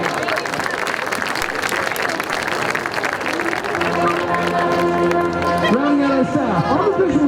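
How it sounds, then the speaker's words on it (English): A community-night audience applauds marching band caption heads, a broad wash of clapping and crowd noise, with voices and tonal band sounds rising over it toward the end. "Let's give a round of applause to our caption heads"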